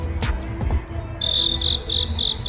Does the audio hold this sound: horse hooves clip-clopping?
no